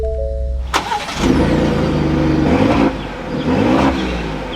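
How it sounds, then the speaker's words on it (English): A 2022 Ford F150 Tremor pickup engine cranks and catches after a chime, then swells into a loud, close rev that settles, dips, and rises again to a steady idle, with no talking. "now it's time to fire this truck back up"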